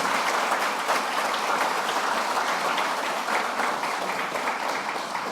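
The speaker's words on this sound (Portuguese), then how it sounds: "Aqui eu peço uma salva de palmas aí para minha esposa" A round of applause from the audience at a formal municipal ceremony conferring honorary citizenship, thick continuous clapping from a large crowd, loud and sustained throughout.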